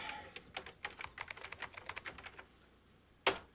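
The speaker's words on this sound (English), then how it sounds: "Let me hit a few keys then." Quick bursts of typing on a computer keyboard, a rapid irregular patter of fairly close keystrokes fading out, then one sharp louder click at the end.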